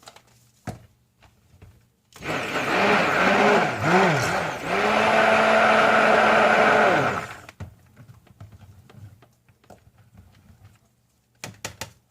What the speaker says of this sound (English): Let's just give them a stick blend.